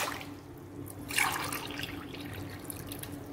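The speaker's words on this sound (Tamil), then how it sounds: "இப்போ அதுக்கு ஏற்ற தண்ணி விடுறேன் பாருங்கள்" Water pours into a metal pressure cooker in one gushing stream, rising briefly then settling into a steady trickle, close and moderately quiet.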